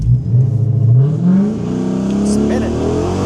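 A 5.7 HEMI V8 fitted with a new intake manifold revs up loud and close, its pitch sweeping upward in a rising roar before holding at a high, throaty drone.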